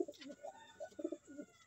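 Pigeons kept by a fancier coo in a loft in the early morning, a series of soft, low, throaty coos repeating in short rolling phrases, fairly close and alone without talk.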